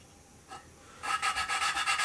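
Rhythmic back-and-forth rubbing of a valve against its seat, turned by a suction cup tool with grinding compound during a Duramax engine build, starting after a quiet second as a steady series of close scraping strokes.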